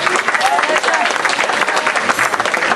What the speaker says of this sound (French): Alors, vous pouvez l'applaudir.